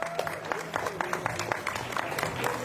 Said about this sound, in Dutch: Dames en heren, ik vraag u een warm en daverend applaus voor het podium.